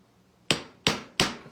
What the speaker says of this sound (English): Just busy hammering away.